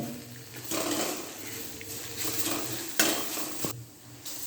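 Pundi (roselle) leaves roasting in a pan for chutney give a soft continuous sizzle, with scraping stirs and a few sharp clinks against the pan, close up and without speech.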